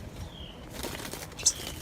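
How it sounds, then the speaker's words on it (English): Small birds flutter their wings inside a greenhouse, a faint soft flapping rustle with a brief high chirp, heard alone against quiet background hiss. "hear them fluttering?"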